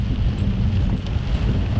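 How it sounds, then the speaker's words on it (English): Heavy rain and gusting wind from a severe storm on St. Vincent, a dense, steady low roar that holds at constant loudness for the whole stretch with no voices and no break. "So this morning is horribly rainy."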